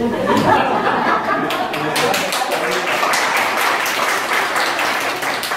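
Audience applause at a Korean church gathering, a dense steady patter of many hands clapping throughout, with some voices and light laughter mixed in.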